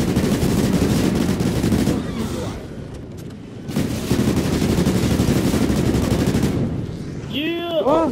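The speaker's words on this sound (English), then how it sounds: "Oh, wait, what? Who's shooting?" Heavy, continuous gunfire in the game NightFall, loud bursts of automatic fire with a short lull in the middle, then ringing, chiming tones near the end; voices speak over the shooting.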